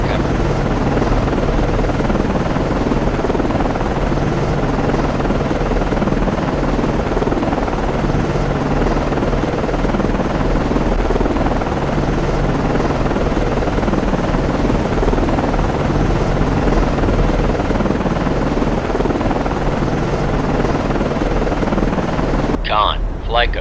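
A helicopter landing on the destroyer DDG 79 in the naval game Cold Waters, a loud, steady rotor drone and engine roar filling the scene without pause, ending abruptly with a brief different sound at the close.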